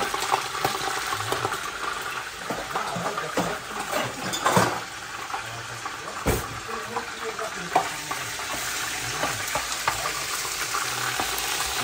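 Onion frying in oil in a home cooking pot, a steady close sizzle with occasional stirring scrapes, continuous for the whole stretch with no talk.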